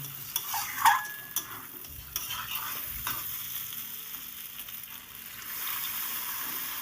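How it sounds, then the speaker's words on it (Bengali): Katla fish curry with fried flat beans sautéing in a pan gives a steady sizzle, with sharp metal spatula scrapes and clinks on the pan early on, then continuous frying. "সিমটাকে দিয়ে আমি আবার দু মিনিট কষিয়ে নিচ্ছি"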